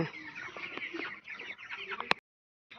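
Broiler chickens on a farm cluck in a dense, overlapping chorus, close and busy, before the sound stops abruptly for a moment and then resumes.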